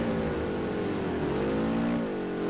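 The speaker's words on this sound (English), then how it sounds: "this car sounds weird." A steady, droning car engine in the PS2 video game Test Drive Overdrive hums continuously with a slight rise and fall in pitch, loud and close, with no voices.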